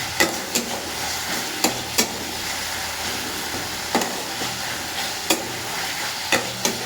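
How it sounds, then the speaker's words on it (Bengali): Spice masala for a meat curry being stir-fried in hot oil with onions and chillies, a steady loud sizzle broken by repeated sharp scrapes and knocks of a spoon against the pan. "মশলাটা ভালো করে কষে নিলে"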